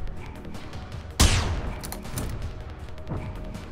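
A single sharp, loud gunshot in the robot-hunting shooter Generation Zero, followed by a decaying echo and faint game ambience with no talk.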